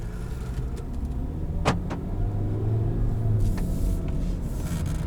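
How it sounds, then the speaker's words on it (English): A 2013 Volkswagen Passat 2.5L five-cylinder engine idles with a low, steady rumble, joined by a couple of brief mechanical clicks partway through. "You can already hear that 5-cylinder is bloody fantastic."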